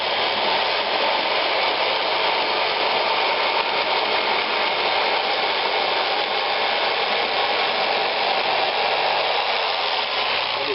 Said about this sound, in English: Not really how the jigsaw was meant to be used